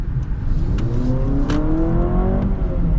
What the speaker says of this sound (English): We'll do another acceleration here just so we can kind of fully compare to the RAV4.